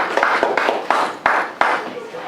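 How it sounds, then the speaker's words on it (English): A small presentation audience claps briefly after a talk, a few sharp hand claps standing out over a short, scattered round of applause. "applause."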